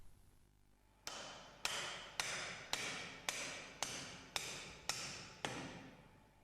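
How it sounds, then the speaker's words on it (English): A plastic hammer taps on the swash plate of a Kränzle pressure washer pump, nine sharp, evenly spaced knocks close by, each with a short ring, with no talking. "Using a plastic hammer, hammer on the swash plate."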